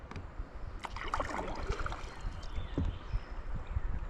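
Water flows over a dam near Piqua, heard from a kayak or canoe as a soft, steady rushing wash with faint paddle splashes and trickles close by, fairly quiet overall.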